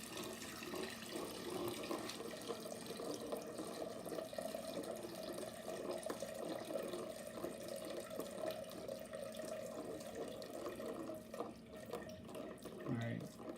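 Hot water at about 155 degrees is poured slowly onto a lid inside a mash tun for sparging while brewing an American stout, giving a steady close splashing stream that runs throughout under low background noise.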